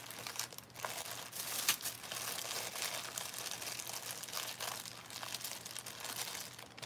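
A plastic shopping bag from a haul is handled up close, giving continuous crinkling and rustling with sharper crackles scattered throughout, fairly quiet overall and without talk.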